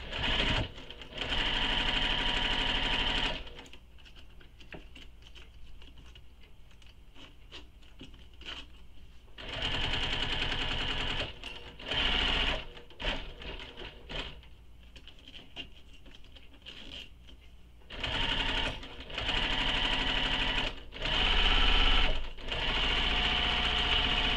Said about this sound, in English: We're going to baste this in place using the seam allowance given in the pattern.